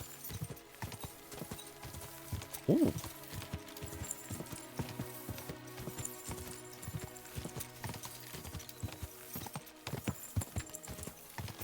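A horse's hooves clip-clop at a steady walking rhythm in the medieval game Kingdom Come: Deliverance II. The hoofbeats are quiet and close, with a brief vocal exclamation early on.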